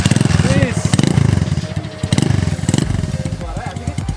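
Honda CB100 motorcycle engine running in a cafe-racer style restoration, revving in repeated surges with a loud, throaty pulse while people talk over it.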